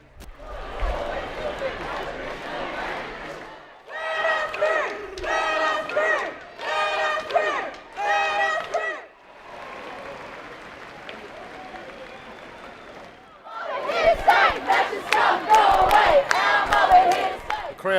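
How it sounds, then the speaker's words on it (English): A large protest crowd chants in unison at the intersection of Flinders and Swanston Streets on Invasion Day, rhythmic shouted chants alternating with roaring cheers and clapping, loud and close, with a pause of murmuring between rounds. "Crowds, they've commandeered the intersection of Flinders Street and Swanston Street for probably over an hour now"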